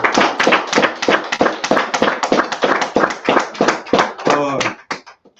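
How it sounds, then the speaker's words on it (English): Group of people clapping for two brothers at a religious gathering, loud close rhythmic claps in quick succession, some voices mixed in, tapering off near the end. "Y'all clap it up for these brothers right here."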